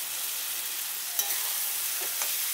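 Fried potatoes stirred into sizzling masala in a pan while cooking raw jackfruit kofta curry, a steady soft frying hiss with a couple of brief scraping stirs near the end.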